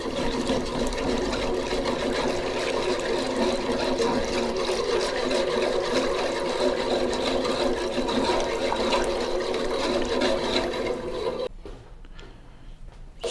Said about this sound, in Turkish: Ilık suyumu çorbama ilave ediyorum.